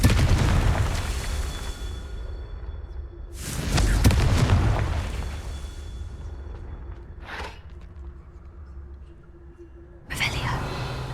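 Confringo spell blasts in Hogwarts Legacy: a loud booming explosion with a long decaying rumble, a second heavier blast a few seconds later, a brief crack, then another burst near the end, with faint tonal game sounds between.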